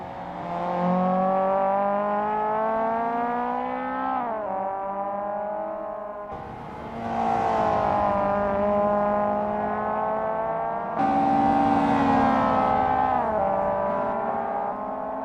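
Mazda Eunos Roadster race cars at Tsukuba circuit in the racing game Assetto Corsa, with engines revving up through the gears in three loud, rising pulls, each ending in a drop of pitch.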